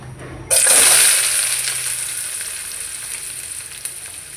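Onions frying in a hot pan with broad beans added, bursting into a loud, bright sizzle after a brief quiet start, then settling into a steady, slowly fading crackle with faint stirring.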